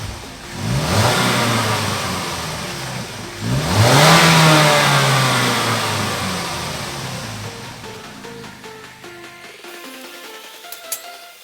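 A 2013 Chevrolet Captiva 2.4L engine with stock exhaust revs hard twice in quick succession, each rev rising sharply, then the roar slowly winds down toward idle and cuts off.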